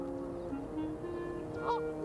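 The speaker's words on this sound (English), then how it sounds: "no match for a pair of geese defending their nest" A pair of geese honk in a steady, harsh series while defending their nest, close and fairly loud, over a low constant background hum.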